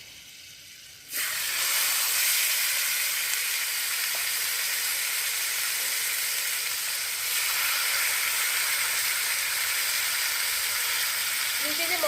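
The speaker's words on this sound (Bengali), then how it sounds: "আঁচটা দেখুন আমি মিডিয়াম রেখেছি মিডিয়াম আছে কিন্তু এটাকে করবেন এবার চিকেনগুলো আমি দিয়ে দেবো এর মধ্যে" Chicken hits a hot pan on medium heat and breaks into a loud, steady close sizzle that holds evenly for over ten seconds after a quieter start.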